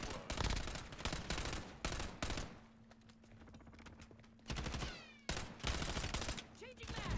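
Gunfire in Call of Duty Warzone crackles in dense rapid bursts, pauses briefly under a steady tone, then resumes with further volleys; quiet and compressed, with faint talk-like sounds mixed in.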